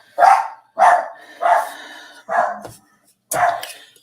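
A dog barks five times in a steady, evenly spaced series, each bark loud and close with a short tail, with quiet gaps between.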